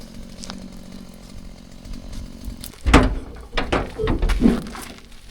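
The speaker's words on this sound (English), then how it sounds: "That long chainsaw bar gets to it pretty easily" A chainsaw with a long bar revs and bites into tree roots in close, loud bursts with thuds and rough cutting noise, after a quieter idling stretch.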